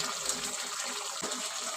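Water gushes steadily into a pan of chicken cooking in masala with greens for a methi pepper chicken dry, a continuous close splashing pour with no talk over it.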